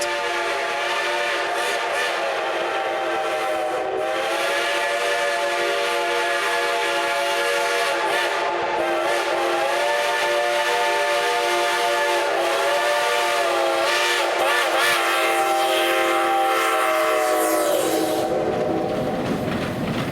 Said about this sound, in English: Our next locomotive is Pacific Coast Shay No. 2 at the Cass Scenic Railroad